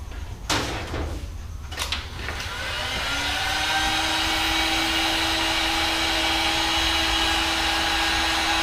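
A heat gun warming a stabilizer bar for a DIY hydroponic garden tower starts after a few knocks and bumps, then settles into a loud, steady blowing whir with a faint tonal hum.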